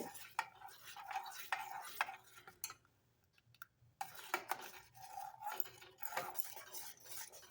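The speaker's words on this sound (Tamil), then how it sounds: "கஸ்டர்ட் பவுடர் சேர்த்ததும் நம்ம நல்லா கலந்து விட்டுக்கணும்" A spoon scrapes and clinks steadily against the inside of a pot of thickening custard, stirring in an irregular rhythm with a short pause midway.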